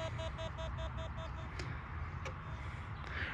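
An electronic locator beeps in a quick, evenly spaced series, then falls silent, leaving a low hum and a couple of sharp clicks.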